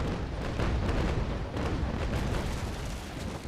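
Ship cannons fire in a naval battle in the sailing game Naval Action, giving a dense run of heavy booming blasts and rumbling impacts, loud and continuous without clear gaps, with no talking.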